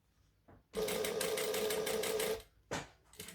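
A sewing machine stitches around the open edge of a fabric wristlet in one steady, fast run of close needle strokes, then stops and gives a short second burst.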